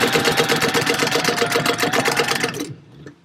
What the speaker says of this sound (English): let's go to the sewing machine and we are going to sew at 1/4 inch all the way across both sides